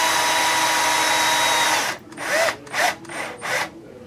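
A power drill drives screws into an Axial Yeti RC car build, one long steady whir for about two seconds, then four short bursts, close and loud with no talking.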